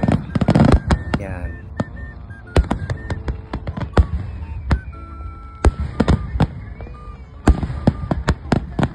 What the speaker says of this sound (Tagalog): talaga namang sumasabog talaga ang paputok nila dyan ng mga